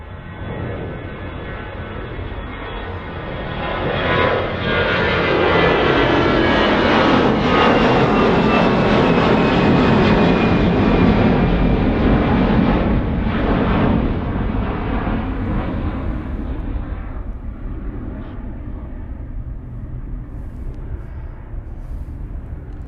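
A Jet2 passenger jet arriving at Birmingham Airport roars loudly as it passes close by, its broad engine rumble swelling to a peak and then slowly fading over about twenty seconds, with no talk.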